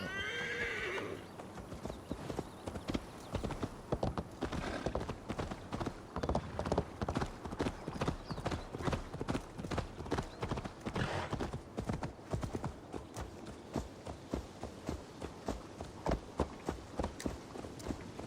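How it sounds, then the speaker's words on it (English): Horse hooves clip-clop at a slow walk through a town in Assassin's Creed Valhalla, a steady rhythmic series of close, distinct hoofbeats over quiet game ambience, with a brief whinny near the start. "my horse is gonna go slow because I'm in the town"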